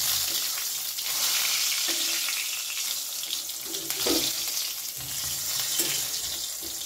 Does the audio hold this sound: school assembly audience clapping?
no